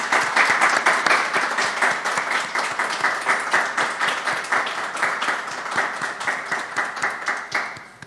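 Audience applause at a talk on José Martí in Santander: steady, lively clapping from a seated crowd, close and even throughout, tapering off at the end.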